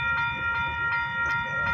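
A freight train rolls past with a steady, rhythmic clickety-clack of wheels over rail joints about three times a second, layered over a sustained tonal hum, moderately close and without talk.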